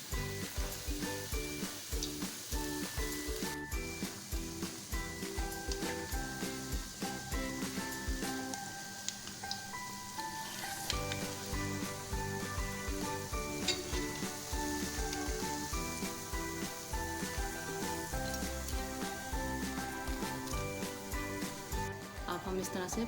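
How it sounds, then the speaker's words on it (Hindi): Pakoras frying in hot oil for a Pakistani kadhi pakora, a steady dense sizzle running throughout with a brief lull midway, busy kitchen clatter and faint talk mixed in. "इसी तरह से हम पकोड़े डालते जाएंगे और पकोड़े तल के हम फ़ौरन कड़ी में डालते जाएंगे"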